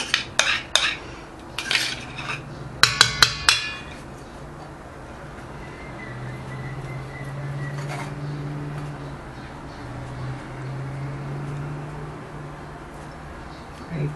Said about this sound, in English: place the remaining of that batter in this little dish